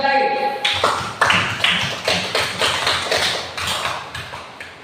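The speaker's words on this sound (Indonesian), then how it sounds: "Tepuk tangan sekali lagi." Schoolchildren in a classroom clap together in a rhythmic, patterned beat, loud and close, after voices at the start, the claps pulsing steadily for several seconds.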